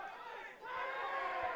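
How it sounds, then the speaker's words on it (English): Crowd at a Tamworth Magpies rugby match swelling in volume, a distant, diffuse roar of many voices rising and holding steady near the end of the game. "Crowd getting very vocal."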